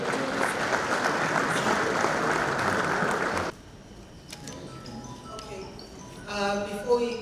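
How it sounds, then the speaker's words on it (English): Audience applause at a women's soccer league dinner in a hotel, dense and steady for about three and a half seconds, then cutting off into a quieter room with scattered clinks and faint sounds. "Let's give her a round of applause as she makes her way to the podium."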